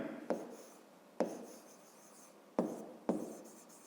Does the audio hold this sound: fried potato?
no